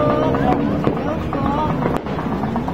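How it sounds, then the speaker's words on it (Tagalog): New Year's fireworks crackle and pop continuously in the background, with people talking over the steady din. "Sana all may po fireworks."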